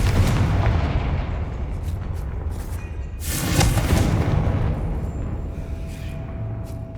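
Confringo fire spell blasting in the Hogwarts Legacy video game, a loud, rumbling explosive burst that swells midway through a dense, continuous roar of game effects.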